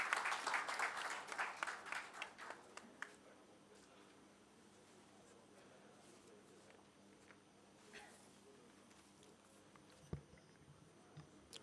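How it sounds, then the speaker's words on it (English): Applause from an event audience fills the opening three seconds with dense clapping, then fades to a quiet hall with a few scattered claps and small bumps. "A big round of applause for our Shri Sukatme."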